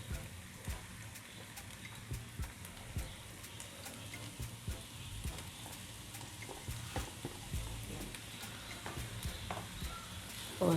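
Five hundred grams of minced meat frying in a pan for keema do pyaza: a soft, steady sizzle with frequent light scraping and tapping as it is stirred, fairly quiet and with no talk.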